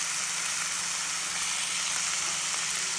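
Broad, steady frying sizzle as two tomatoes go into the hot pan for a Tamil-style egg gravy, continuous and fairly close with no talking.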